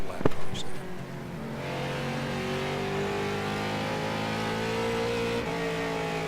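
Late model race cars roar around Lanier Raceway in iRacing, a steady loud engine drone holding high revs with layered exhaust tones from several cars close behind, after a brief clatter at the start.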